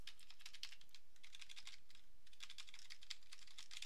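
Fast typing on a computer keyboard near an Atari 8-bit setup, irregular bursts of small clicky keystrokes with short pauses, faint and alone without any voices.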